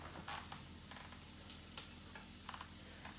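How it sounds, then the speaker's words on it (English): Sliced baby Bella mushrooms sizzle in a pan, a faint, steady frying hiss dotted with small crackles and ticks. "I used baby Bella mushrooms. So we're going to put the mushrooms in."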